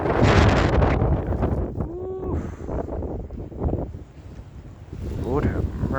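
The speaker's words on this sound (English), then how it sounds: "Ooh, you can hear the wind." Gusting wind in a Boston blizzard buffets the microphone with loud, roaring bursts that rise and fade, and a person talks over it.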